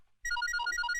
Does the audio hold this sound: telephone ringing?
yes